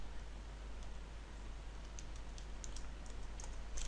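Faint, steady clicking of typing on a computer keyboard while entering code, scattered light keystrokes over a quiet background hiss, no voices.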